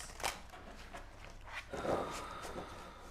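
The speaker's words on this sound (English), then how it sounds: "I'm going to do a little shuffle really quick and throw down some cards" Large tarot cards are shuffled briefly nearby, giving quiet papery riffles and soft slaps with faint movement between them.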